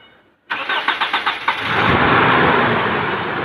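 A Toyota Innova petrol engine, fresh from a fuel pump replacement, cranks with a rapid rhythmic starter chug for about a second, then catches and settles into a loud, steady idle close by.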